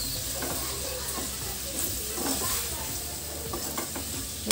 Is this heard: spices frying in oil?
yes